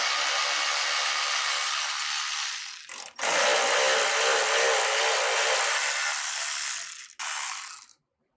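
A 12 millimeter socket on a ratchet loosens bolts on the front tube support of a 2010-2024 Toyota 4Runner, making a loud, close, continuous ratcheting buzz that breaks off briefly twice before it stops.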